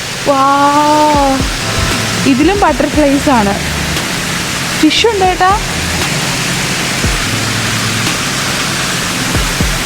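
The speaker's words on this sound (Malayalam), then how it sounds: "ഈ വാട്ടർഫോൾസിൻ്റെ സൗണ്ടും" A small waterfall rushes in a steady, close broadband hiss throughout, with people talking briefly over it in the first half before the flowing water carries on alone.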